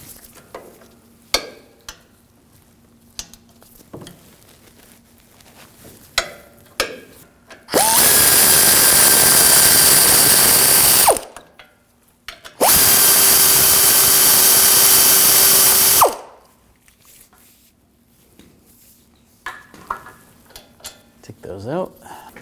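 A powered ratchet with an 18mm socket backs out the brake caliper bolts on a 2015-2022 Chevrolet Colorado, two loud sustained whirring runs of a few seconds each, separated by quieter clinks of handling.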